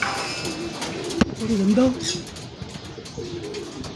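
Pigeons coo in a loft of stock birds kept for widowhood racing, soft repeated rolling calls close by, with someone talking over them.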